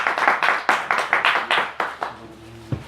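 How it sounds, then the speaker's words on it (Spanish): An audience claps for a guest at a Spanish-language live talk event, with roughly ten sharp bursts of hand clapping over about two seconds before it dies away to quiet room noise. "ahora podéis darle otro aplauso ya sabiendo todo lo que ha hecho"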